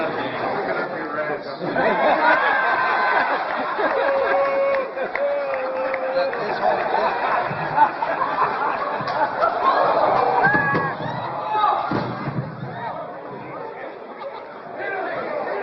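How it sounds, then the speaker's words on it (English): A crowd chatters steadily throughout, with scattered light laughter rising from the murmur and a few louder bursts of voices. "So you hear the crowd laughing a little bit."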